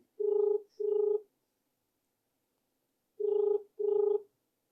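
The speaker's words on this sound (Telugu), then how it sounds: "ఫోన్ అయితే రింగ్ అవుతుంది" A mobile phone call rings out unanswered, two pairs of short buzzing ringback tones separated by a long silent gap, clear and moderately loud with no talk.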